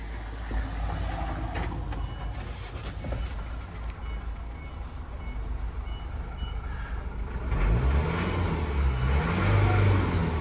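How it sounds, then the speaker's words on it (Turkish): A Mercedes Sprinter van's diesel engine cranks and settles into a running idle, a low, rough rumble that grows louder in the second half, heard close with faint workshop noise and no talking. "Dilerseniz aracımızı çalıştıralım."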